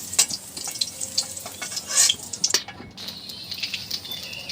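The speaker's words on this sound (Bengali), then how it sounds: "এবার আলুগুলো অল্প অল্প করে ভেজে নেব" Potatoes fry in oil in small batches for a Bengali railway mutton curry, producing a crackling sizzle punctuated by stirring clicks and spatters, fairly close and with no talking.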